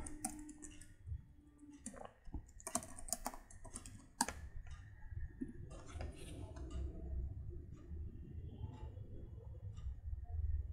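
Computer keyboard typing as code is entered, a run of quick, close key clicks in uneven bursts over a low steady room hum, with no talking.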